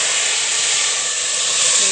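A loud, steady sizzling hiss as hot tempering with whole red chilies is poured into Punjabi pakora kadhi curry, close up and continuous for the whole moment.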